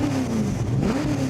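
Ford GT40 with a 427 V8 engine revving loudly nearby, a steady deep roar that rises and dips in pitch through a brief burst of throttle.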